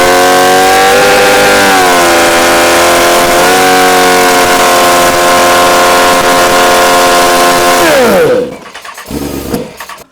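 A wrecked Honda 954 sportbike that had sat for fifteen years runs loud and close, holding a steady idle with rising and falling revs before the engine cuts out abruptly, followed by faint sputters.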